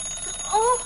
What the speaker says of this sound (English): My poor alarm clock!